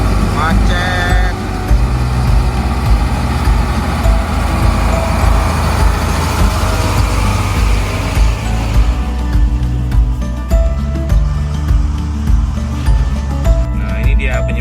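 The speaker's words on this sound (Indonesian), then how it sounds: "Lumayan macetnya masih panjang. Banyak truk dan mobil-mobil" Dense roadway noise from a long traffic jam of many trucks and cars, including palm-oil tanker trucks, rumbling steadily and fairly loud with low engine drone throughout, easing slightly toward the end.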